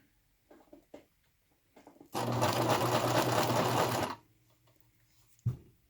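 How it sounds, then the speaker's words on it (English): Sewing machine stitching across a zipper during installation, a loud steady mechanical whirr running for about two seconds, framed by faint handling clicks and quiet rustling before and after. "And you just sew right over it."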